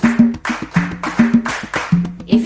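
Young kindergarten pupils clap their hands together at a Mother's Day school assembly, producing rhythmic bursts of group claps with a sung or toned voice running beneath them.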